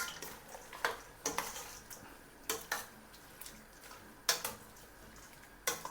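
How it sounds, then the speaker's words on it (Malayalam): Onions for Malabar chicken biryani being stirred and mixed in a pot, a series of quiet scraping and clinking strokes at an irregular pace, soft and close with no talk. "ഇതെല്ലാം ഒന്ന് നന്നായിട്ട് മിക്സ് ചെയ്തതിന് ശേഷം ഇതൊന്ന് നമുക്ക് നന്നായിട്ട് മിക്സ് ചെയ്യാം"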